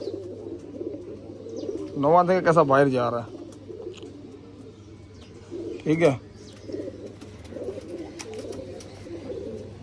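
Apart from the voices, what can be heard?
pigeons cooing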